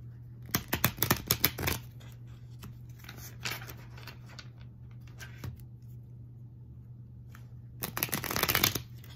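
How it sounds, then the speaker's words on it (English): White sage tarot cards are shuffled in two crisp, riffling bursts, one near the start and one at the end. Scattered soft card taps fall between them over a low, steady hum. "So I'm using the white sage tarot and the wisdom of the oracle."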